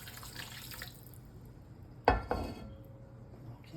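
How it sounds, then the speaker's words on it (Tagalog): A glass of water splashes onto browning pork in a pan while cooking laing, giving one sharp pour with a brief sizzle and a second smaller splash, near and clear against low kitchen background. "Lagyan natin siya ng isang baso ng tubig para mas lumambot pa ang ating karne."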